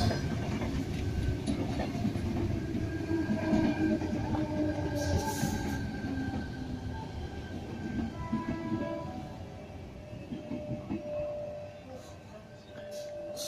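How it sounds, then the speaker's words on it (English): A Sydney Tangara electric suburban train pulls into platform 4 at a station, its rumbling wheels and clickety-clack filling the air with faint motor whine and brief squeal, steady and fairly close throughout. "we have a Tangara that just departed from Tempe Station, now going to arrive on to platform number 4"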